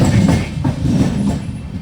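An LHB-coach Garib Rath express train pulls into Anakapalli station with a steady, close rolling rumble of wheels on rails and a faint clatter, no voices heard.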